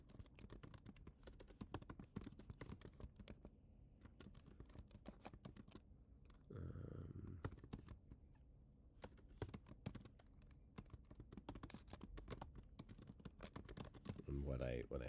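Rapid, irregular clicking of computer keyboard keys goes on throughout, a dense stream of light taps close by, briefly broken by a short burst of another noise midway.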